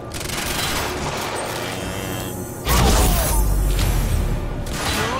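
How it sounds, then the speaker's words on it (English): Shotgun blasts in the video game Quantum Break, a loud heavy boom cutting into a continuous roar of combat noise, with rumbling low end and mechanical clatter around it. "Shotgun!"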